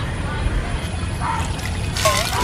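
Water runs and trickles as boiled noodles for American chopsuey are rinsed, a soft steady flow heard under a person speaking.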